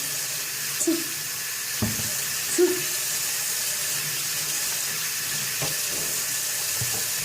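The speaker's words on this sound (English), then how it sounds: "Making sure I rinse all of the conditioner out." Tap water runs steadily while conditioner is rinsed out of a body wave U-part wig, a constant hiss at close range with a few soft knocks and splashes.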